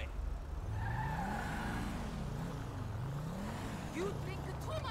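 A car drives through city traffic in GTA 5 during a police patrol and nearly hits another vehicle, its engine droning steadily and rising and falling in pitch, with a short tire squeal near the end.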